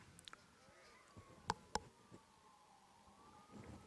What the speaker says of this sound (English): Some more sirens running.